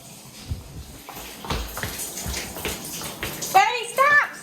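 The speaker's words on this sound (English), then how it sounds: "The shower was on." Water from a shower runs in a floating tiny house, hooked up to a dock hose, a steady hiss under people talking, with a sharp shout near the end.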